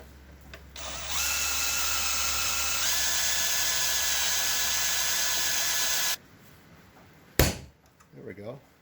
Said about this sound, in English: That's why we center punch them, so that we can drill the rivets out